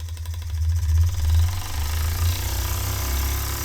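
A small Empire B-30 engine runs after its tank was repaired with Gorilla super glue gel, giving a steady low chugging hum with a faint rattle, close and continuous, with no talk.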